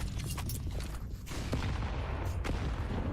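Rapid bursts of M4A4 rifle gunfire in a Counter-Strike pro league match, loud and close, with dense overlapping shots and booming impacts filling the whole stretch.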